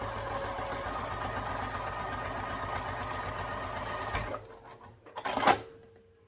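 A home sewing machine runs steadily, basting fabric with a long stitch length, its motor humming with a fast mechanical rhythm for several seconds before stopping, followed by a few small handling clicks.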